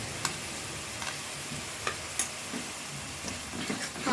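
Onion paste fries in a pan with a quiet, steady sizzle, marked by a few faint ticks and clinks from stirring, with no voices.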